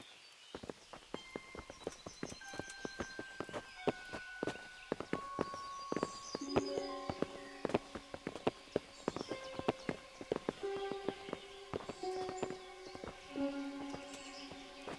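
Horses' hooves clip-clop steadily across a medieval setting in Kingdom Come: Deliverance, a dense run of sharp, close hoofbeats with scattered faint insect and bird sounds in the background.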